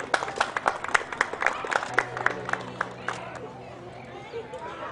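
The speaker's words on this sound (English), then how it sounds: "Please give a big round of applause" Applause from an audience at a school annual day celebration honouring staff members, a burst of sharp claps in the first two seconds that thins into scattered clapping over a low murmur of voices.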